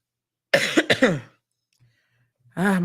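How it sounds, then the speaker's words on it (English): A short burst of harsh coughing, two or three quick hacks up close, followed by a pause and then a voice beginning to speak. "This cough is killing me."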